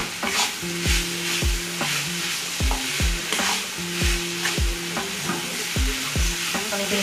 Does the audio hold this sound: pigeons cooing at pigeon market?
no